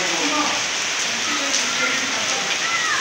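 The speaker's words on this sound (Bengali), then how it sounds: "যেমন বৃষ্টি হয় না ঠিক তার চেয়ে বেশি হচ্ছে" Heavy rain pours steadily onto surfaces outdoors, a dense, loud, unbroken hiss of drops with no pauses and no voices.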